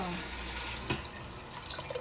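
Water pours steadily into a cooking pot holding rice and glutinous rice, a broad rushing wash close by, with a brief knock partway through and soft clinks near the end.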